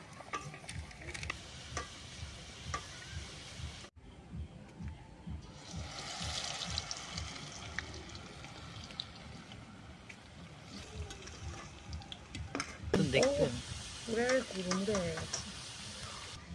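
Battered potato snacks frying in oil, a soft bubbling sizzle with stirring clinks, and a voice talking over it near the end.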